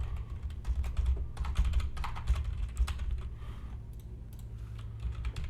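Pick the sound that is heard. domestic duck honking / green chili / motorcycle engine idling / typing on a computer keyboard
typing on a computer keyboard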